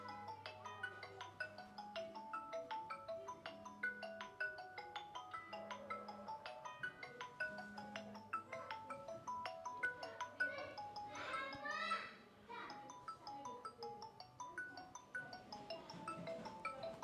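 A mobile phone ringtone plays in a home as a repeating electronic melody with a steady pulsing pattern, looping for well over ten seconds at moderate level with no talking over it.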